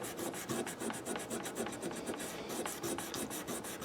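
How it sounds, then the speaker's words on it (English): Fine 1000-grit sandpaper is rubbed over a fret on a B.C. Rich Bich guitar, making close, steady scratchy strokes in a quick back-and-forth rhythm with no talking. "I just rub all the stuff off of that fret and try to shine it up"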